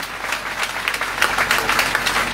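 A church congregation applauding during a Sunday worship service, with continuous, fairly close clapping that swells slightly toward the end.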